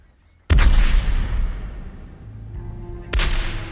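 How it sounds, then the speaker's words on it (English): A single ceremonial cannon shot fired at sunrise in Havana for the naval burial of the USS Maine in 1912 booms loud and close, rumbles away, then a second heavy blast follows near the end. "the citizens of Havana awoke to a cannon shot"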